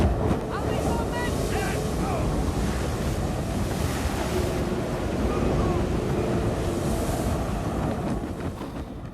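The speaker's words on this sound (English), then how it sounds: "This is just a terrifying depiction of a storm at sea." A violent storm at sea aboard a sailing warship: roaring wind and crashing waves in a dense, continuous wash of noise, with faint shouted voices buried in the turmoil.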